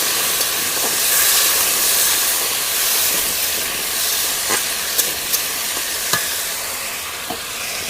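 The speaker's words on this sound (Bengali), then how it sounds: "দিয়ে আলুগুলো ভালো করে একটু ভেজে নিতে হবে লাল করে" Potatoes fry in hot oil with salt and turmeric for an egg and soybean curry, giving a steady close sizzle and hiss throughout, with a few light clicks and taps of a stirring utensil; no talking.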